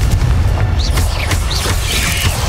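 A fiery Confringo spell blast in the Hogwarts Legacy video game, a loud booming burst with crackling impacts and whooshing streaks, dense and continuous throughout.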